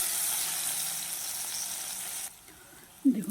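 Okra sizzles steadily as it fries in a pan with turmeric; the loud hiss cuts away abruptly partway through, leaving a quieter background before a short clatter of a utensil at the end.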